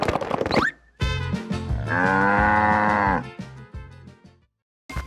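A cartoon cow lets out a long, loud moo with a wavering, drawn-out pitch on a farm, followed by a shorter lowing call and a brief pause before another sound begins.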